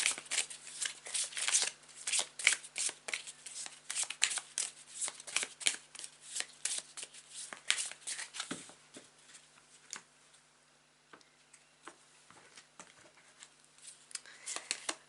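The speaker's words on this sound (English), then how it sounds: "whilst I shuffle it and lay the cards on the mat" Tarot cards are shuffled in quick riffling bursts and laid on a mat with soft taps, close and fairly quiet, with a lull near the end and a steady low hum underneath.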